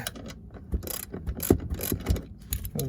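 A ratchet works a loose 13mm bolt on a Volvo 240 seat, giving a series of quick metallic clicks and ratcheting rasps, close and fairly quiet, with irregular bursts over about three seconds.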